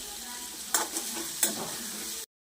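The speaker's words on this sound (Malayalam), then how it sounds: "ഇതെല്ലാം ഇട്ടിട്ട് നല്ലോണം ഒന്ന് വഴറ്റി കൊടുക്കണേ" A spatula stirs and scrapes ingredients being sautéed in a hot pan, with a steady soft sizzle and two sharper stirring strokes, before the sound cuts off abruptly.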